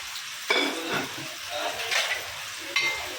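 Masala frying in hot oil with fenugreek seeds, curry leaves and garlic for a Kokani-style dal: a steady close sizzle broken by a few sharp bursts as the spices are stirred, with no talking.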